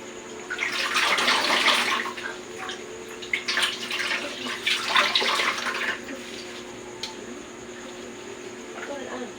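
A washcloth is dipped and wrung out in a basin of water during a bed bath, giving soft splashing and trickling in two or three bursts, close and fairly quiet, before the water settles.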